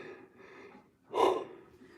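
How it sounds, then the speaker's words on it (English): A single long yawn from a barber: two soft breathy stretches, then a louder open-mouthed swell that fades, close and with no talk over it. "I'm not trying to keep yawning in front of y'all's face like this"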